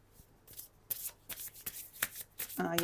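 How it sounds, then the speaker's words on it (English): A deck of oracle cards being shuffled by hand, with quick papery riffles and soft slides in short bursts, close and fairly quiet, ending with a brief voice. "let's have a look at one of our oracle cards to go a little deeper, using the Time Travelers"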